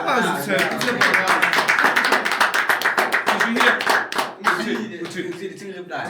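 Clapping from a small group on a casual talk show, a dense run of hand claps that stays loud and steady for most of the stretch, with voices talking over it and the claps thinning toward the end.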